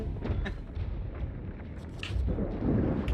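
A lightning strike and an exploding dynamite barrel in the Sea of Thieves video game come through as rumbling booms with crackling bursts, growing louder toward the end, without speech.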